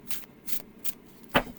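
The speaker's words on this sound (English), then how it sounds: "You can do the overhand shuffle." Magic: The Gathering cards are shuffled overhand, a few soft papery swishes in an uneven rhythm ending in a sharper flick, close and fairly quiet with no speech.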